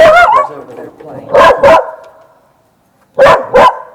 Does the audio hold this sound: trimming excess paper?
no